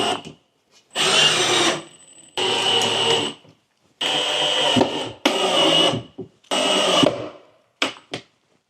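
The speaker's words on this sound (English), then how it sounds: "now have the fun part of attaching our screws" A power drill drives screws through drywall into wood in a 1988 Palm Harbor singlewide mobile home, with five loud whirring bursts of a second or so each, separated by short pauses, then a couple of brief blips.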